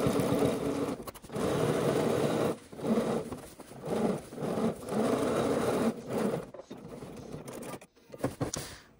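A sewing machine stitches a seam on Cashmerette Vinton pants in several loud, continuous runs separated by short pauses, close up and with no talking.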